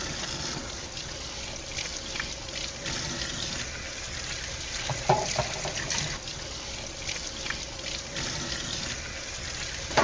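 Warm water runs steadily from a sink tap as hands are washed with soap, a continuous close splashing flow with a brief louder splash midway and no talking.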